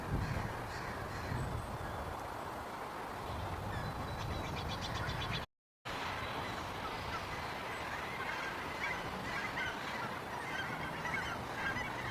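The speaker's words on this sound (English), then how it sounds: "The way the crows are carrying on over there" Raucous cawing from many crows carries from a distance over a steady outdoor background, the calls overlapping continuously with no one speaking.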